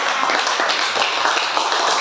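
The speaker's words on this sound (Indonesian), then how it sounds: "tepuk tangan untuk semuanya" A class of high school students in Jakarta claps together, a dense and steady patter of many hands that fills the room evenly for about two seconds.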